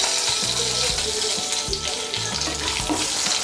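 Whole cumin seeds, a dried chilli, cinnamon and cardamom sizzle steadily in hot oil, a dense close crackle with faint intermittent scraping underneath.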